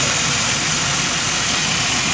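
A 1997 Pontiac Grand Prix GTP engine idles after a repair with new gaskets, seals and thermostat, giving a steady, loud, close hum without pauses.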